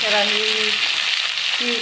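Close, steady sizzling of boiled potatoes frying in an old, worn-thin wok, with a brief tonal scrape or squeak near the start and again at the end.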